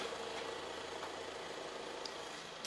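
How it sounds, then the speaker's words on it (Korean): A fifth-generation Ford Explorer 2.3 gasoline AWD engine idles with the hood closed, giving only a faint, steady low hum with no talking. "이 정도의 엔진 소음 만나보실 수가 있습니다"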